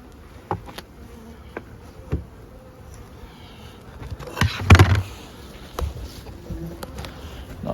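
Honey bees hum steadily in an opened beehive fitted with top feeders, with a louder knock or scrape of the hive equipment midway and a few faint clicks, close up.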